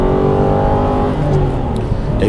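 An Aston Martin V8 Vantage engine revs loudly and close by, its pitch holding then easing off, with a faint voice underneath.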